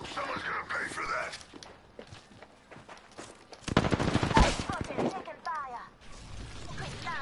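Rapid automatic gunfire in the shooter game Apex Legends erupts in a loud burst of close, fast shots midway through, with scattered single shots, footstep-like clicks and quieter stretches around it.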